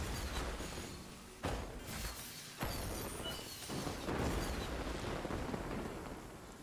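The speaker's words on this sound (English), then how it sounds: "Those fireworks are so distracting." Fireworks burst in the Genshin Impact video game during the Lantern Rite festival, a steady crackling barrage with several sharp booms standing out, continuous and fairly loud throughout.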